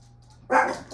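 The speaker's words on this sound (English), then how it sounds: "That way they don't drive me nuts with obsessive barking." Indoor dogs reacting to puppies next door, a sudden loud bark close to the mic after a quiet hum, then another bark starting at the end.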